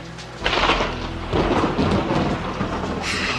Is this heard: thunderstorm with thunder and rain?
yes